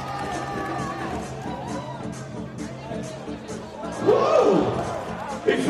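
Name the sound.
basketball arena crowd cheering for a player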